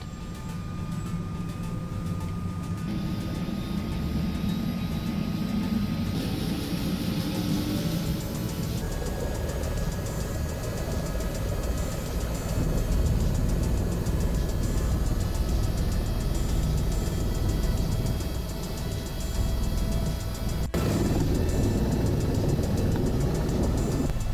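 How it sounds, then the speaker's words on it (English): A loud, steady helicopter roar, a constant engine and rotor drone that fills the whole clip with no voices, near Las Vegas. "This was a helicopter, and it was loud."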